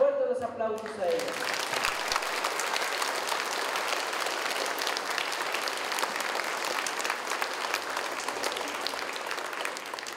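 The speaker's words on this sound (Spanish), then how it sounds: "Fuerte los aplausos a ella." Loud, dense crowd applause at a village patron-saint festival in Santa María Coatlán, honoring the Virgin Mary of the Assumption, sustained for about ten seconds after a brief opening voice.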